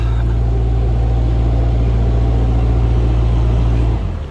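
Narrowboat diesel engine revving hard at Foxton Locks, a loud, close, steady low throb with rhythmic chugging that holds for about four seconds, then eases off as the throttle drops back.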